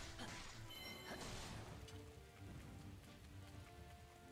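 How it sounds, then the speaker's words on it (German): Rain falls in the video game Hyrule Warriors, a soft, steady patter under sharper game clatter and tones early on, the whole scene quiet and distant. "der Regen ist jetzt nicht so geil"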